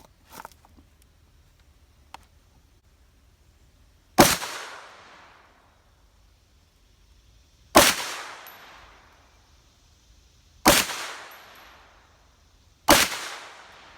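Four sharp, loud gunshots from a 9mm Matrix Arms rear-charging Glock-style AR pistol on an outdoor range, spaced a few seconds apart, each with a short ringing decay, and no talking.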